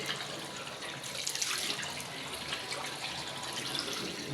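Tap water runs steadily into a sink while a face is rinsed, a continuous near hiss and splash with no talk over it.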